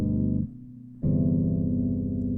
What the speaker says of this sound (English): is a 2-5-1 chord progression.